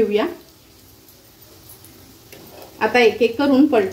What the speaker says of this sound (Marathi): आपण हे कबाब आहेत ना सोया चंक्सचे हे बघा फ्राय करत ठेवलेले